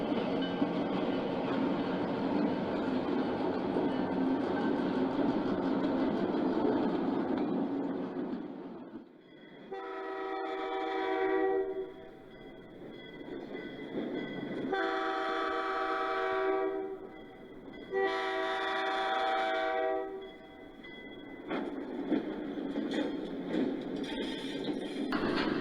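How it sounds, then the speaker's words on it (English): A long coal train in a train simulator game rumbles steadily and loudly, then several horn blasts sound in a long-long-short-long style pattern, with low rolling noise between them. "the consist returns now to its much larger coal train"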